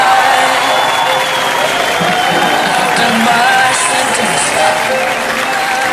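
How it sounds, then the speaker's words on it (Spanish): A crowd applauds the Monster hostesses at a championship event in Chillán, with steady, dense clapping and a few scattered cheers holding at an even level for about six seconds. "Hoy le damos un fuerte aplauso a nuestras anfitrionas"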